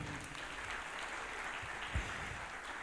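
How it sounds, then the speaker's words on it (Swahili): Faint, steady clapping from an audience greeting a group of women at a church gathering, a soft continuous patter with no voices standing out. "Sio tupigie hawa mama wetu makofi mazuri"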